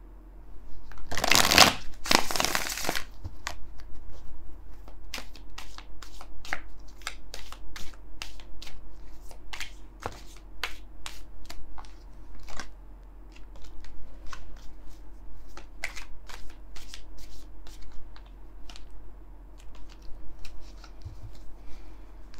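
Tarot cards are riffle-shuffled in a brief loud burst, then a long run of scattered light card snaps and flicks continues in a quiet room.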